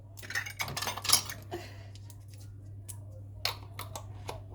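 Glass jars of homemade chutney and their metal lids clink and rattle as lids are tried on in turn: a quick cluster of light clinks, a pause, then a few more taps, close and quiet, with no talking.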